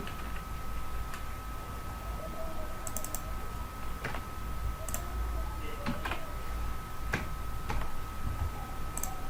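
Keys tapped on a computer keyboard while entering numbers into an Excel spreadsheet, sparse irregular clicks standing out against a steady electronic hum in a quiet room.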